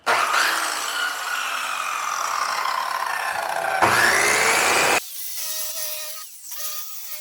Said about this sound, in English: any power tool you're about to use, it needs to be revved up first